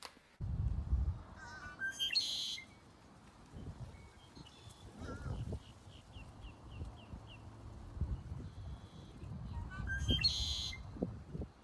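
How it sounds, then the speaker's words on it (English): A red-winged blackbird call plays back as a recording, loud repeated bursts near the start and end with softer trilled notes between, over low rumbling handling noise. "now I know what the red-winged blackbird sounds like."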